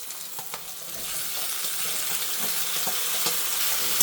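Manchurian pasta sizzles steadily in a pan as it is stirred, with scattered clicks and scrapes from the utensil over the constant hiss.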